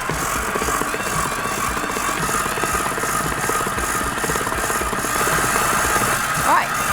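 An electric stand mixer runs at higher speed while whipping a marshmallow mixture for colourful marshmallow ropes, giving a loud, continuous, rattling whir up close that persists throughout.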